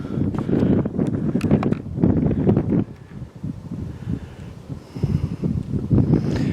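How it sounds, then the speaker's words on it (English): Wind blowing near the shore of the sea at low tide in Nova Scotia, a steady, close rushing roar buffeting the microphone, swelling and easing in strong gusts throughout with no talking. "I'm glad the wind isn't any stronger than it is."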